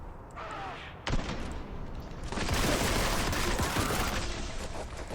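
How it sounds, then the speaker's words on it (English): Bolt gun fire in the video game Warhammer 40K: Boltgun: a single sharp shot lands near one second, then heavy, rapid firing roars on continuously and loudly to the end. "What kind of bolt gun is this?"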